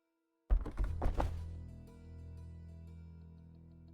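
A video game plays a wooden thud effect: after a moment of silence, a heavy hollow knock lands with a few quick rattling follow-up thumps, then a low resonant tail slowly fades.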